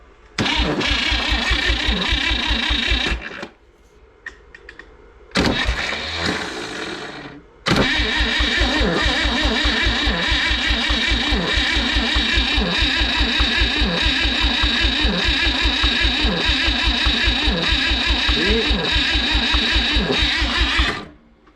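A car engine with a suspected starter problem cranks steadily for about three seconds, stops briefly, cranks again, then grinds on for a long unbroken stretch without catching. The cranking is loud, close and rhythmic, with no voices.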